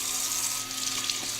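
Tap water runs steadily into a sink as it warms up for watering indoor succulents, a continuous even hiss with no voices.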